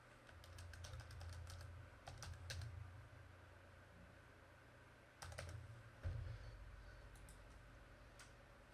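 Fingers tap on a computer keyboard in quick irregular bursts of clicks with pauses between them, quiet and close against a faint background hum, no voices.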